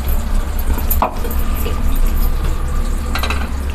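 Ground garlic, pepper and cumin go into a pot of boiling spicy fish curry, a steady bubbling simmer with a soft clink of utensils and faint stirring, close and fairly loud.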